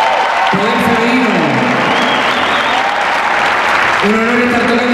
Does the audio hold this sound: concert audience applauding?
yes